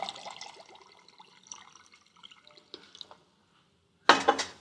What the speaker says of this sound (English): to that I'll add about 3 cups of water